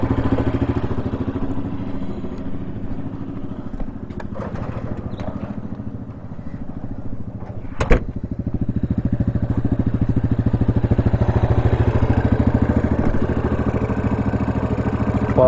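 A Yamaha Grizzly 700 ATV engine runs at a steady, buzzing throttle, close and continuous, with one sharp clatter around the middle.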